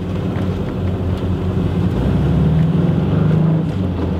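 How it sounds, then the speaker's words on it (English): A 1979 Volkswagen Type 2 Westfalia camper van engine drones steadily nearby on a drive, a low, rumbling, deep vehicle hum with slight rises in loudness and no voices. "Engine sounds fantastic in this vehicle too."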